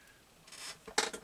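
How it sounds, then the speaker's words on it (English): Dull scissors with glue stuck on the blades work through paper in a kitchen craft session, giving a couple of short, soft rasping snips, the last one louder and crisper. "These scissors are so dull, it's hard to cut paper with them."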